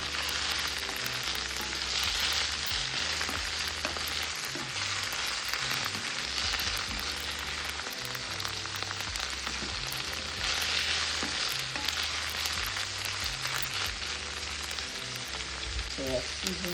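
Beans frying in a pan for Haitian djon djon rice give a steady, close, dense sizzle that runs the whole time, with a low tonal hum beneath it.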